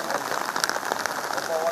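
Heavy rainfall in Ankola, a dense steady hiss of rain on surfaces with scattered drops, loud and continuous throughout the short stretch.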